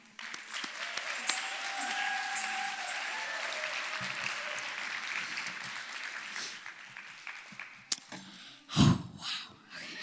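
Audience applause fills an indoor evening event as a featured performer is introduced, a steady broadband clapping wash lasting several seconds before fading, with a short burst of voices near the end.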